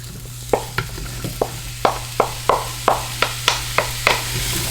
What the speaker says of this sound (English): We're just going to saute this, and we want the mushrooms to start to brown